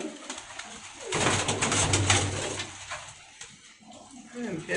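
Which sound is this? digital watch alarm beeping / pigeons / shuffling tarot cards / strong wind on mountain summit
pigeons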